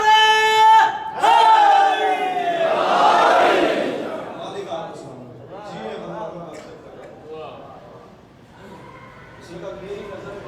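Crowd at a religious sermon gathering chanting slogans in unison, a loud swelling collective shout that follows a single voice's call, then fades into a murmur with scattered voices before rising again.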